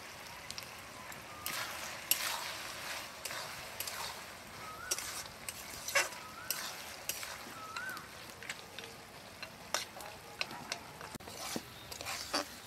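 Spatula scrapes and clinks against a pan, stirring tender bottle gourd with fried lentil dumplings over a soft background sizzle, with irregular taps and scrapes spread across the whole stretch.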